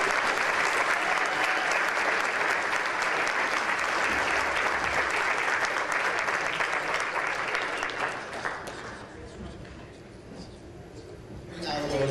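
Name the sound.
audience applause for Erica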